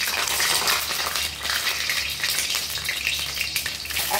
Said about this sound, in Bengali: এখন আমি কড়াইতে তেল দিলাম, তেলটাকে ভালো করে গরম হতে দেব। এখন আমি এখানে ডিমগুলোকে দিয়ে দিব।